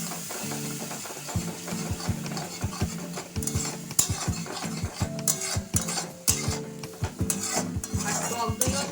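Whisked sour yogurt is stirred and fried into a pomfret fish curry, giving a soft sizzle under frequent scraping and clinking of a spoon against the pan, close and quiet.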